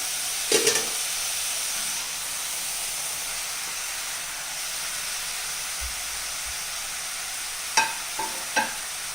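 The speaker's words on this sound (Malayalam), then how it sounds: "തക്കാളി ഇട്ടൊന്ന് ഇളക്കി കൊടുക്കാം." Tomatoes stirred into chicken frying in a pan, a quiet steady sizzle and hiss with a few sharp scraping clinks of the utensil at the start and near the end, no speech.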